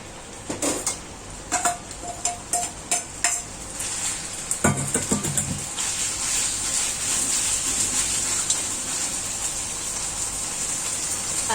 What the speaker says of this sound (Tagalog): Then fry the beef